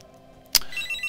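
A phone rings in the Stellaris strategy game, starting suddenly as a bright electronic tone. The ring carries on over a low background hum with no speech.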